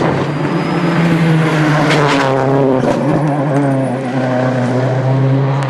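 A rally car engine roars on wet tarmac on slick tyres in the WRC 2007 video game, a loud, sustained drone that rises and falls with shifts.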